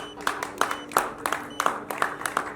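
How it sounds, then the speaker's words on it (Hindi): Rhythmic clapping at an awards event, sharp hand claps landing in a steady beat about three per second, moderately faint and close, with a quiet murmur of voices underneath. "एक अलग सा कुछ तालियां तो बजा दो।"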